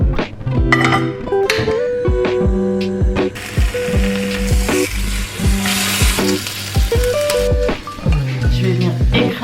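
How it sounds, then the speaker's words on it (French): Bacon and eggs fry in a pan with a loud, steady sizzle, overlaid by repeated clanking and scraping of utensils and a busy rhythm of kitchen knocks close by. "je vais le mettre au four pendant que je fais cuire mon bacon et mes œufs"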